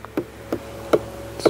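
A few honeybees buzzing around a hive super at honey harvest time, close and intermittent, with brief buzzy bursts over a faint steady hum and short gaps between passes.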